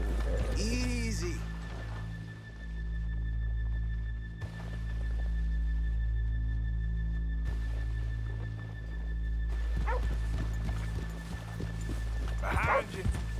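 Horses clip-clopping and snorting in Red Dead Redemption 2, set against a steady low rumble of ambient game sound with brief voices and a whinny near the end.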